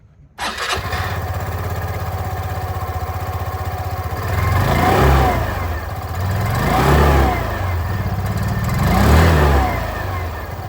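A Hero Destini 110 scooter starts up and idles with a steady, putting exhaust note, revved three times in slow, even swells, close and loud with no talking.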